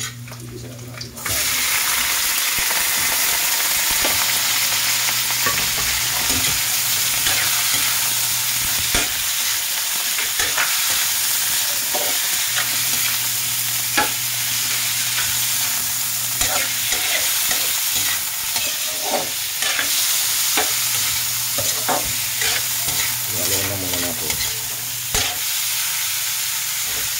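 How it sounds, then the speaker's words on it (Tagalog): Meat sautéing for Bicol Express, a Filipino coconut-milk pork dish, sizzles steadily in a hot pan for the whole stretch, with occasional stirring clinks and scrapes and brief bits of faint voice. "Ibisa natin yung karne."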